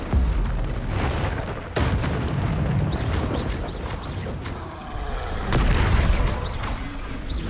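Confringo blasting spells fired in the Hogwarts Legacy video game burst into repeated loud booming explosions, several heavy blasts in quick succession over a rumbling, crackling bed.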